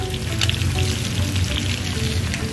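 Loud, steady sizzling of onion and green chili frying in a pan for chicken curry, a dense crackling hiss with a light stirring scrape, no talk.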